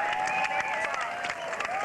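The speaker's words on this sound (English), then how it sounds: "Get out here and cheer this runner on" A crowd applauds and cheers a runner finishing the 1988 Great Snow Earth Water Race, with steady clapping and scattered whoops from nearby spectators throughout.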